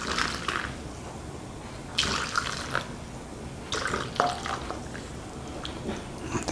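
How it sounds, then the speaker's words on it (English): Beetroot mixture is poured through a funnel into jars, giving soft liquid splashes and trickling in a few separate bursts, close and fairly quiet. "pour the mixture in there"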